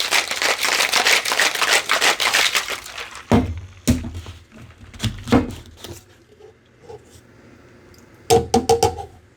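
A cocktail shaker holding bourbon eggnog is shaken hard with a fast rattling rhythm for about three seconds, then sporadic knocks and clunks follow as it is set down and handled.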